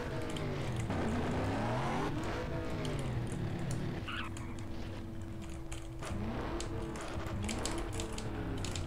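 Patriote car driving in MTA DayZ, a steady engine drone that rises and falls with shifting revs and gear changes, with some mechanical rattling, heard alone without talk.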